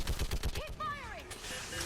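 Rapid bursts of gunfire from a Mass Effect 3 firefight, several quick loud shots opening the moment and then giving way to whooshing weapon or ability effects and battle noise.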